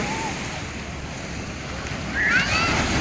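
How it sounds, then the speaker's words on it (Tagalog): Sea waves washing onto Tiwitiwi Beach in Legaspi, Albay, a steady roaring surf wash with wind buffeting the microphone, swelling slightly near the end, a brief faint whistle-like tone near the start and a brighter chirp near the end. "Sarap ng hampas ng alon ng dagat."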